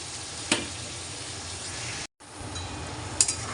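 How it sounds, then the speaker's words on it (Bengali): Small cardamom pods and whole spices sizzle in a generous amount of hot oil, a dense steady hiss up close with a couple of sharp crackles and a brief dropout midway. "ছোটো এলাচ ফোড়ন দিয়েছি"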